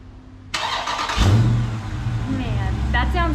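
A 2020 Dodge Charger Scat Pack with the 392 6.4-liter Hemi V8 cranks and fires up, a sudden loud bark settling into a deep, rumbling idle nearby, with a voice talking over it near the end.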